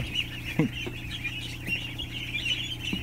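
Young domestic waterfowl, a duckling or gosling, peep with brief chirping calls over a steady background hum, held close by hand indoors on a floor.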